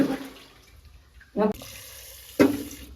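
Water is poured and splashed in two short bursts while a food vessel with ant-infested leftovers is washed out in a home kitchen, separated by quieter background hiss.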